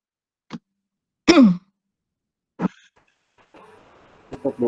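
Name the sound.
throat clearing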